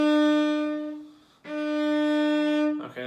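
A cello played in first and second position moves from a first-finger B up to a second-finger D, sustained bowed tones with a brief gap and a slide between the two notes, close and clear with no talking.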